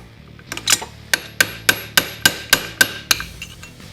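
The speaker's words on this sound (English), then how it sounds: "So now we're just going to bend down our lock washer." A hammer strikes about ten times in a steady, closely spaced rhythm, bending down the lock washer on a Blaster clutch after the holder is torqued. The metallic taps are loud and close, with no talk over them.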